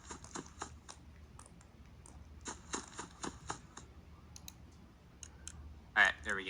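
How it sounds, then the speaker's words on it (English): Quick, light pattering footsteps of a monster in Five Nights at Freddy's 4 scurry back and forth, a series of irregular clicky taps over a low background hum, with a louder burst near the end. "You can hear the pitter-patter of his footsteps going back and forth the entire night"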